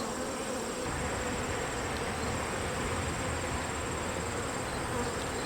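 Agitated honey bees swarm around an open hive during a brood frame inspection, a dense, steady, close buzzing drone that holds without letup.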